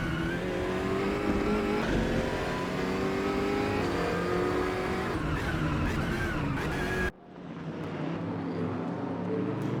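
Race cars from a racing video game circle the Imola track with a continuous loud engine drone and revving. The sound cuts out abruptly, then a fainter engine roar follows.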